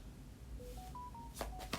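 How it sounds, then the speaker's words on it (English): A short electronic phone notification chime plays as a rising series of clear beeps, followed by two sharp bright blips, soft and alone against faint background hiss. "Y'all heard that notification?"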